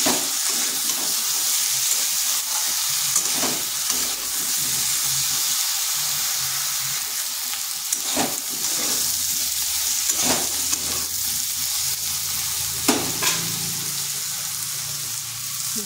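Potato and eggplant pieces frying in oil with a little turmeric, giving a steady close sizzle and hiss with occasional stirring scrapes throughout.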